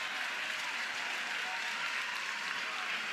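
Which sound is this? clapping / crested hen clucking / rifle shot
clapping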